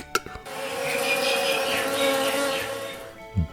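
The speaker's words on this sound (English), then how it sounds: "Insect." An insect buzzes in a continuous, wavering drone at moderate volume with no talk, ending with a soft thump.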